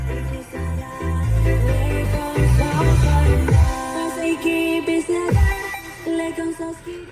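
Music plays through the Bose speaker system inside a Mazda CX-60 cabin, filling the car at a steady, fairly loud level with a strong bass line and no talk over it.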